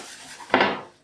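Focaccia dough goes into a bigger baking tin, with a short soft scrape followed by a single close metallic clunk of the tin that fades out quickly.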